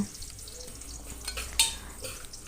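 Cauliflower curry cooks in a wok, a utensil stirring through the thick gravy with a gentle sizzle and one bright metallic clink in the middle.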